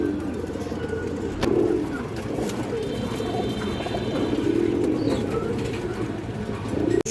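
A big, rough-throated female pigeon coos in low, rolling bursts close by, with a few murmured pulses repeating over several seconds amid faint background chatter.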